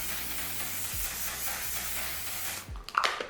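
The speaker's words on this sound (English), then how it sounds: "I'm just gonna go in with the One Size Until Dawn setting spray" One Size Until Dawn makeup setting spray gives a close, continuous misting hiss for about two and a half seconds, then stops abruptly, followed by a few faint clicks.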